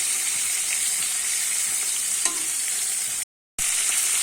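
Shrimp frying in hot oil for a malai curry, a continuous close, bright sizzle with a faint clink partway and a momentary cut-out near the end.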